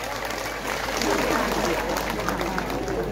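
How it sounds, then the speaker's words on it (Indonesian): An audience in a church gathering applauds for pastor Gilbert Lumindong, a loud, dense burst of clapping that swells in the middle and is mixed with crowd noise and some talking. "Tepuk tangan untuk pendeta Gilbert Lumindong."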